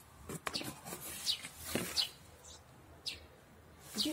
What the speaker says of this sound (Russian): Где-то воробушек чирикает.